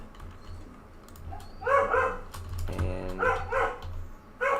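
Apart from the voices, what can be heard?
dog barking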